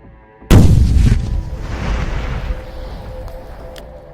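Armored vehicle's ammunition detonating after a drone strike in Lugansk region, a single sharp loud blast followed by a long rumbling roar that slowly fades, with a couple of faint pops near the end.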